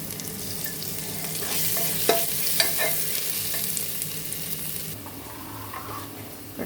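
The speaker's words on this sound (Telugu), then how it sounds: "2 ఉల్లిపాయలు వేగినవి, అల్లం వెల్లుల్లి పేస్ట్ వేస్తాను." Onions frying in a pan with ginger garlic paste for mutton curry, a steady close sizzle under repeated scraping stirs, with a few sharp spatula knocks.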